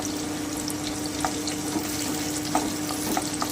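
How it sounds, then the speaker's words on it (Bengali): Chopped onion sizzles and fries steadily in a pan as Zafrani chicken is cooked, with a constant crackling hiss and a few soft clinks of stirring breaking through. "এবারে আমি বাকি কুচনো পেঁয়াজটা দিয়ে দিচ্ছি আমি খুব ভালো করে একটু বেজে নেব"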